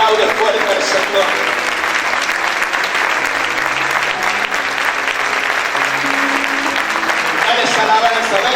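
Loud, sustained applause from a church congregation praising God fills the space, many hands clapping continuously with crowd voices and soft sustained tones beneath.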